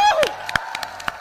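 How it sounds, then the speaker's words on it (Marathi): Scattered claps ring out at an award ceremony in Kokan after a brief voice, a handful of sharp, separate hand claps spaced unevenly rather than full applause. "जोरदार टाळ्या निधीसाठी"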